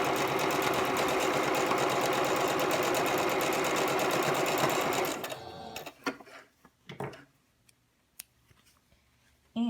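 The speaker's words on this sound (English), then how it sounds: "we are just going to do a 1/4 inch seam" A sewing machine stitches a quarter-inch quilt seam on half-square triangles cut from a layer cake, running loud and steady for about five seconds before stopping, followed by a few soft handling clicks and taps.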